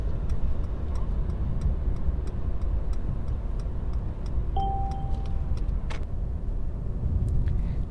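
Right turn signal ticking steadily inside a moving car, with faint regular clicks over a constant low road and engine rumble and a brief chime partway through.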